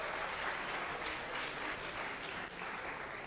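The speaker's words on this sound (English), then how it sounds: "Let's have a round of applause, Patrick." Sustained audience applause in a lecture hall, a dense steady wash of clapping from many hands lasting the whole moment, fairly close and even, with no talk over it.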